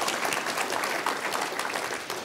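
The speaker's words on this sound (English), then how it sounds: "So applause." A city address audience in San Marcos breaks into applause, a dense, even wash of clapping filling the short stretch from start to finish.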